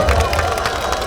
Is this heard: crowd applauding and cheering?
yes